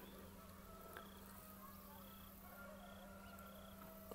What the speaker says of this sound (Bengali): তবে মুরগির সাউন্ডটা অনেক বেশি শোনা যাচ্ছে।